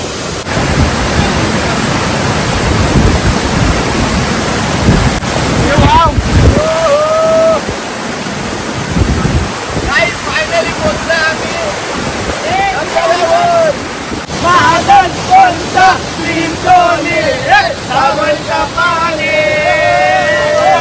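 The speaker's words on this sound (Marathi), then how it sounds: "हे बघा यो वॉटरफॉल भेटला आम्हाला" Water rushes and roars continuously from a waterfall in a forest, while people talk over it at intervals.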